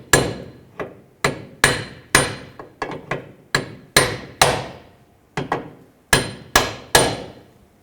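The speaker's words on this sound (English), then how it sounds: "Just use a punch. Just try to tap the bolt in a little bit." Sharp metallic hammer strikes on a punch, driving a control arm bolt into a 2010-2017 Chevrolet Equinox, about fifteen loud close blows in uneven groups with short ringing decay between them.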